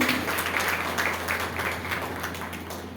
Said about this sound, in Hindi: हम आपका ताली बजाकर स्वागत करते हैं